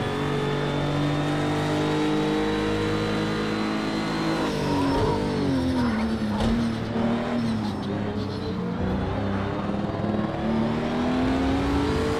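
A race car engine roars at full throttle in Project Cars 2, steady and loud with rising and falling pitch as it revs through gears, a continuous close drone throughout.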